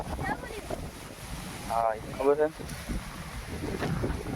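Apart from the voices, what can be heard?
strong wind blowing in a farm orchard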